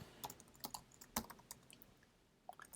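A pool name being typed on a computer keyboard, with quiet, close keystrokes coming in short irregular bursts and a brief pause before a couple of final taps.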